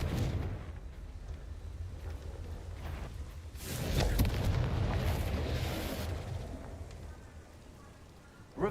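A booming fire-curse explosion from the Confringo spell in Hogwarts Legacy erupts in the middle of combat, a loud roaring burst that swells and slowly fades over rumbling game noise.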